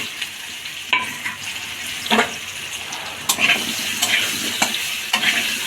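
Potatoes with turmeric fry in a pan with a soft steady sizzle, broken by several sharp clinks and scrapes of a spoon stirring, close up and without talk.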